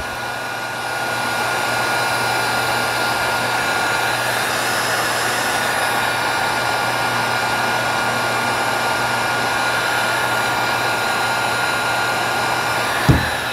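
A heat gun blows hot air over wire connections on a 12-volt waterproof LED driver, a loud, steady whooshing roar held for the whole stretch, ending with a brief click.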